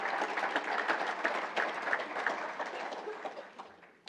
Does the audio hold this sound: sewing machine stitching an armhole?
no